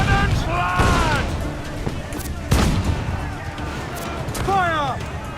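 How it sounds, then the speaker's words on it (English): Ship cannons boom in Assassin's Creed IV: Black Flag, several heavy blasts rolling out over a naval battle amid shouting crew voices and a busy background din. "Uncork the cannons, lad!"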